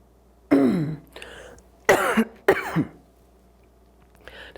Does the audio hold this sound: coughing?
yes